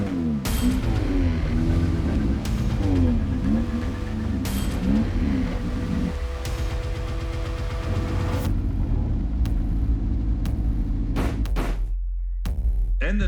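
A race car at a speedway rumbles with a loud, close engine and shifting revs. A door knock and clunks come as the driver gets in, then the engine dies away at the end.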